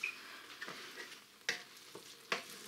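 A spoon stirs cooked bulgur with vegetables in a Redmond multicooker, making a few soft scraping strokes and sharper clinks against the pot, close and quiet with gaps between.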